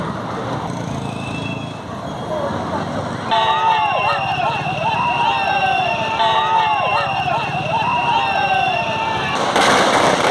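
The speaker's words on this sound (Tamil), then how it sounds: "சேலத்தில் பல்வேறு இடங்களில் தவேகாவினர் கூட்டணி கட்சியினர் பட்டாசுகள் வெடித்தும்" Firecrackers crackle and pop in the background of a street celebration by TVK party workers and allies in Salem, a dense continuous rattle mixed with crowd noise beneath a loud voice talking over it.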